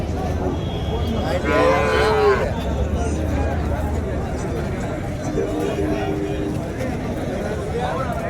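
Native cattle at the Mattrapalli village livestock market, including small native calves and pairs of bulls, let out two clear moos, the first louder, over a steady background of crowd chatter and market bustle.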